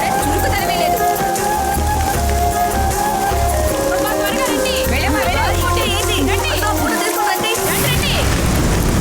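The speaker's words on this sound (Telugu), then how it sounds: "వర్షం వస్తుంది, త్వరగా పదండి." Rain falls steadily as wind picks up ahead of a heavy downpour, with constant patter heard under loud dramatic background music throughout.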